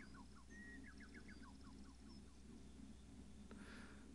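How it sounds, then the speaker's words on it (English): A bird chirps in a quick run of short, high notes, faint against a soft background hiss. "I have this chirping sound."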